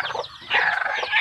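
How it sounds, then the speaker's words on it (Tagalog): Rhode Island Red chickens cluck close by in a brief, busy burst of overlapping calls and squawks, rising in loudness midway with no talking. "Dito sa ating mga alagang chicken."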